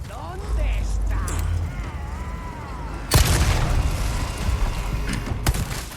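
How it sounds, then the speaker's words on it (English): An explosive barrel in Resident Evil 4 Remake is hit by handgun fire and bursts midway into a sudden loud blast that rumbles on, following a steady stretch of game ambience with mechanical clanks. "Shoot the explosive barrel behind all the enemies with your handgun"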